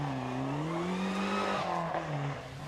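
Short-wheelbase Metro rally car at the 1999 Lark in Park Rally, its engine note rising and falling steadily as it drives, with a brief tire scrabble; loud and close throughout with no talk.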